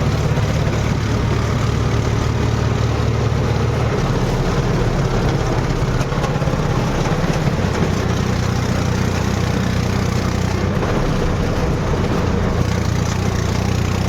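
A tractor engine runs steadily close by, making a continuous low rumble with a mechanical drone and rattle through the whole stretch. No other sounds stand out and nobody speaks.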